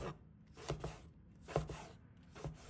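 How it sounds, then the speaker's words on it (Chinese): A knife chops garlic and bird's eye chilies on a board, giving three distinct, evenly spaced cuts with quiet pauses between, close and fairly soft. "几个大蒜，把它切成片。 几个小米椒，把它切成圈。"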